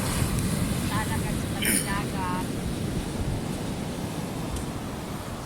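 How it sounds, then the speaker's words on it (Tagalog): Ocean surf rolls in at a shore in Sharjah, UAE, on a calm day after a storm, a steady broad wash of waves with wind buffeting the microphone, while a few faint bird-like chirps flicker briefly in the background. "Ayan, tingnan nyo ang alon."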